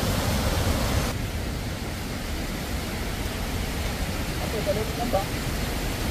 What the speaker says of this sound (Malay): Oh, deras air dia.